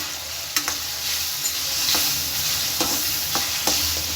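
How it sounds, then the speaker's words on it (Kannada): Onions frying in oil with a pinch of turmeric for a paneer gravy, a steady close sizzle with periodic spoon scrapes and knocks against the pan, no talk. "ಈರುಳ್ಳಿ ಕಂದು ಬಣ್ಣ ಬರೋ ತನಕ ಫ್ರೈ ಮಾಡ್ಬೇಕು ಇದನ್ನ."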